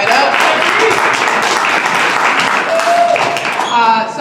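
Crowd clapping in a basketball facility during a women and girls in sports panel, a steady wash of hands mixed with faint whoops and voices, close and continuous before it tapers off at the end.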